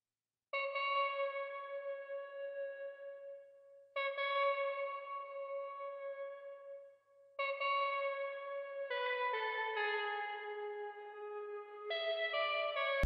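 An Omnisphere Heated JP Lead synth preset plays a bright, harmonically rich melodic pattern shaped with EQ and reverb, sustained phrases restarting every few seconds before shifting to a busier overlapping run, loud and alone.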